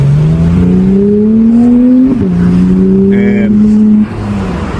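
A Porsche 911 GT3 race-bred engine drones steadily and throatily while driving, its pitch rising then dipping at a shift near the midpoint and settling into a lower cruise; a voice talks over part of it.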